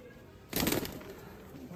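Desi pigeons on a rooftop give a brief burst of soft cooing and faint wing rustle, close by, rising over a low background hum and then settling into quieter calls.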